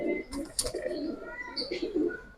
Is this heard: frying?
no